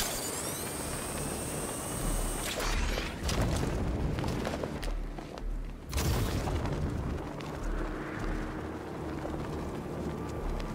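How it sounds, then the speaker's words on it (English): The Batmobile's 60mm cannon fires in Batman: Arkham Knight, loud booming shots with explosion rumble rolling over a continuous wash of background game noise. "One well-placed shot with the Batmobile's 60mm cannon should take it out"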